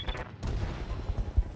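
A Rifleman mech in the Roguetech battle game fires its weapons in a short burst of booming, rattling shots with low thuds, fairly loud, and no voices over it.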